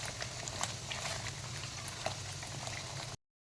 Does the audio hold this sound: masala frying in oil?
yes